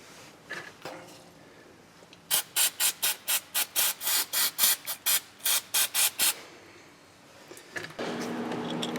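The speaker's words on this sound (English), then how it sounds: "clean the wiring. Like I said, use some brake clean." Brake cleaner sprays onto vehicle wiring in a run of about a dozen short, hissing bursts in steady rhythm. The bursts are close and fairly loud, with quiet handling noises before and after.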